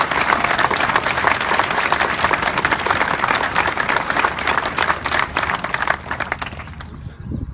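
An audience at a navy frigate decommissioning ceremony claps loudly for the mechanics and welders of Bath Iron Works, a dense, sustained round of applause from a crowd that thins and fades out near the end.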